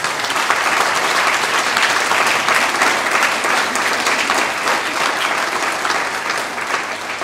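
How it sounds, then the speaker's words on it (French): Sustained, dense applause from an audience at a live tapestry unveiling, steady and loud throughout with many hands clapping at once. "je voudrais qu'on les applaudisse encore une fois"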